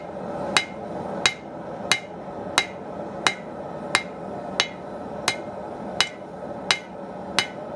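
A hammer strikes hot metal about a dozen times at a steady, even pace, each blow a sharp close ring, as the piece is thinned at a blacksmith's anvil.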